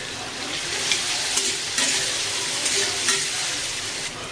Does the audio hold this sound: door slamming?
no